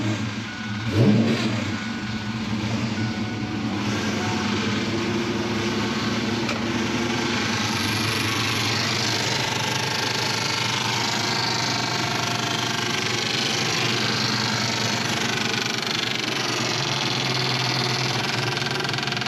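A 1993 Mustang LX fitted with a Powerdyne supercharger runs after firing up, holding a steady, droning engine note with a high whine layered on top, close and continuous throughout.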